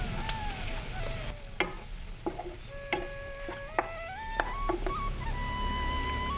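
Potato masala being stirred in a pan for Madurai urulai kizhangu pottalam, soft sizzling with a few sharp spoon knocks against the pan, close by, while tonal background music plays throughout.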